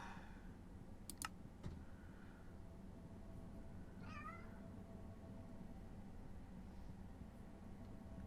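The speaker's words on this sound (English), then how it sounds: "And I've got a cat near me." A cat meows once nearby, a brief rising-and-falling call in a quiet room, alongside a few soft clicks like keyboard taps.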